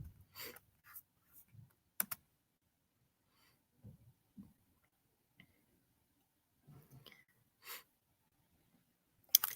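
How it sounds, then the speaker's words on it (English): A web address is typed on a computer keyboard in short, quiet bursts of clicking keystrokes separated by pauses, close up and alone. "The first thing you're going to need to do is type in peardeck.com."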